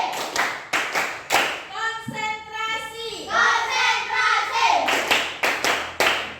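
Schoolchildren in an elementary classroom clap out a rhythmic chant, sharp unison claps in counted groups broken by a stretch of loud chanted children's voices, then more claps.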